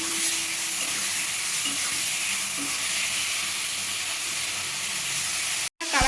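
Roasted eggplant and tomato being mashed with salt in a hot wok, giving a steady soft sizzle and hiss throughout, with faint stirring scrapes and a brief gap near the end.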